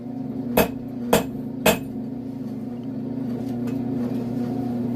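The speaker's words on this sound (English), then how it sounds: "I was hitting it solidly, getting it off the anvil, flipping it, hitting it solidly" Three loud, sharp hammer blows ring out about half a second apart as a blacksmith forge-welds hot steel chain links on an anvil, then a steady forge fire roar and hum continue alone.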